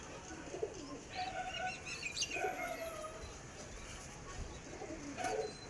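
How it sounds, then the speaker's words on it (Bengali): Giribaz pigeons coo in repeated low, throaty phrases, with occasional chirps and a flutter of wings, all close by over a steady background hiss. "গিরিবাজ কবুতর।"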